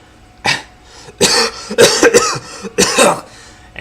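Several sharp, loud coughs come in quick bursts close by, separated by brief pauses, some with a throaty rasp.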